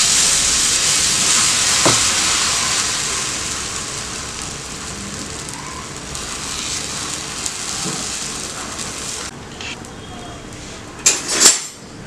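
Banana flower omelette batter sizzling and frying on an iron griddle, a steady broadband hiss throughout with a couple of brief utensil clinks near the end.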